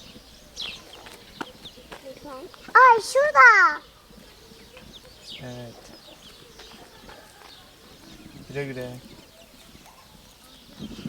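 Chickens cluck and squawk around a village yard, a few loud bursts of calls in the middle and later, while a child and an adult talk nearby.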